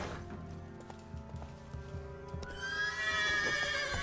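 Roach, a horse in The Witcher 3 video game, gives a clear rising whinny near the end, preceded by soft hoof clip-clops and game ambience, fairly quiet overall.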